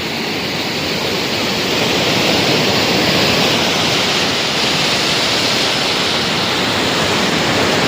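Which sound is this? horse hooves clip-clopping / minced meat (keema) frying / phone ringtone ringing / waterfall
waterfall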